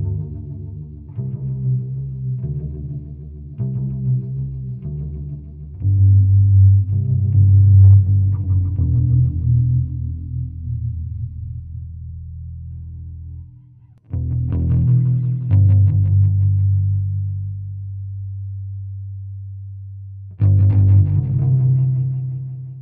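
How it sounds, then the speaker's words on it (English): Bass guitar played through a Death by Audio Space Bender delay effect, heavy modulated notes and sustained low tones with warbling chorus-like repeats, loud and alone, stopping briefly before a few final sustained notes. "Delay on bass, I've just realized."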